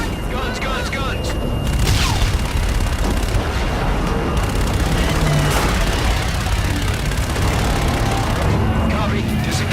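Dense gunfire and heavy booms from the video game Call of Duty Infinite Warfare, loud and nearly continuous with rapid overlapping bursts throughout.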